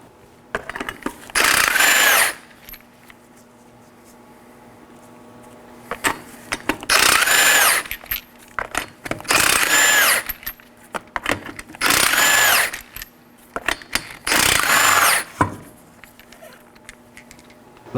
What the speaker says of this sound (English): You're going to want to use a 21mm socket to remove these 5 21mm lug nuts.